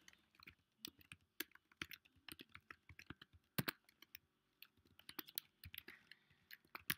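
Quiet, close typing on a computer keyboard while entering Python Pygame code, an irregular patter of crisp key clicks in short bursts with brief pauses, heard alone.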